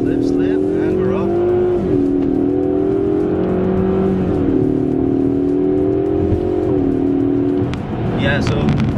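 A 2021 Ford Mustang EcoBoost Premium launching off the line in drag mode, its turbocharged four-cylinder droning loud and steady as it climbs through gear changes, heard from inside the car.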